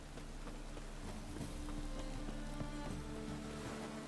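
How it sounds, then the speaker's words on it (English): Rain in The Witcher video game makes a steady, faint hiss of drops falling on surfaces, continuous throughout with no voices. "And it's raining again."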